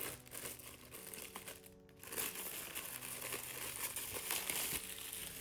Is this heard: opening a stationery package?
yes